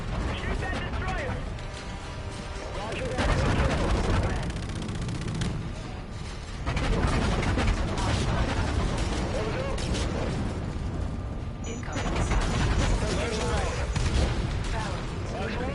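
Heavy gunfire and rumbling explosions from a space battle against a destroyer in the video game Call of Duty: Infinite Warfare, loud and continuous with mechanical clatter, while voices call out over the din.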